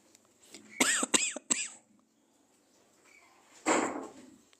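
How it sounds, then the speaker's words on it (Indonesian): Several dry coughs from one person close by, a quick burst of three or four followed after a pause by a single harsher cough, in an otherwise quiet indoor room during a lesson. "Ini batuk nggak selesai."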